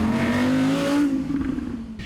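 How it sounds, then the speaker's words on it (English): An Audi R8 Spyder V10 Performance engine revs loudly through its exhaust, the sharp tone climbing then easing off into a rumbling idle, close and alone. "what's even more incredible is the sound the V10 engine makes"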